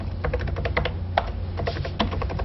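Fingers clatter across an old 1980s computer keyboard in a close, brisk run of uneven keystrokes with short pauses, recorded with a dull, muffled low hum underneath.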